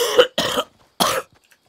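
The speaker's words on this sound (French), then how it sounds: "J'ai une petite toux en ce moment" Three short, sharp coughs from one person, two close together and then a third after a brief pause, each followed by silence.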